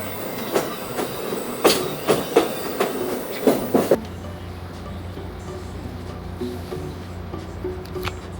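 A train pulls into a station, its wheels clacking in an uneven rhythm over the rails for several seconds before fading to a low rumbling hum with faint squeals.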